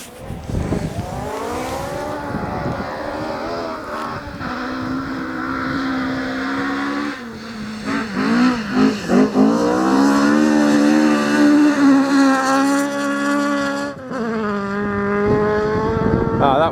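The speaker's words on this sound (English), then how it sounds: "once the cars get to us, the engine note luckily outdoes the wind noise" Rally cars at the Riponian Stages 2025 rally event at Gale Rigg blast past a roadside spot, with engines rising and falling as they rev and shift through gears, loud and close over wind noise.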